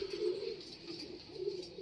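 A racing pigeon coos softly at its loft during a club race arrival, low rolling coos repeating in a slow rhythm against quiet outdoor ambience, with no talk.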